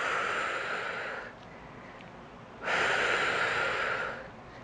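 Two long, steady breathy exhales during a resistance band tricep press, each lasting over a second with a quieter pause between them, close and fairly loud, with no talk.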